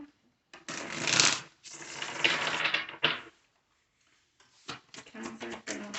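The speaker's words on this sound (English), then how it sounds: "This will be our last shuffle." Tarot cards are shuffled by hand in close, crisp riffling bursts, several shuffles separated by brief pauses, with no talking.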